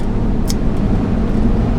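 A Winnebago RV rolling down the road, a steady low engine and tire rumble with road noise filling the cabin, constant and fairly loud, with a brief faint click partway through.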